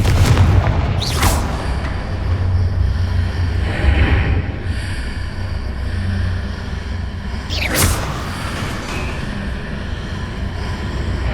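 Confringo blasting spells in the Hogwarts Legacy video game set off loud booming explosions with whooshing bursts. Two sharp blasts land about seven seconds apart over a rumbling game soundtrack.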